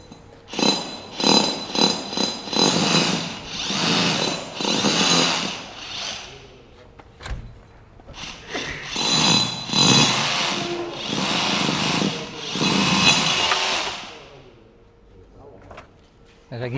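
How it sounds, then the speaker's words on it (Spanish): A powerful hammer drill bores into a concrete block to set a metal anchor, grinding in loud bursts that stop and restart, close by, with someone speaking Spanish between runs. "este taladro es demasiado potente y puede enseguida comprometer el diámetro del taladro"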